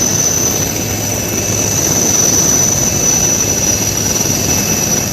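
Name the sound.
rescue helicopter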